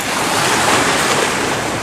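Surf breaks on a fishing beach in a loud, continuous wash of churning water and wind, with no voices.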